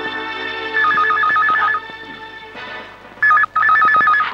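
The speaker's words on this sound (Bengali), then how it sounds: "ফোন।" An old-style telephone bell rings in a home at night, two clear bursts of rapid warbling trills separated by a pause, loud and close over a low room hum.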